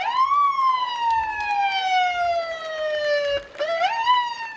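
Monroe County Sheriff's Department vehicles sound a wailing siren during an Independence Day parade in Penfield, New York, a loud close tone that sweeps slowly down, breaks briefly, then rises again.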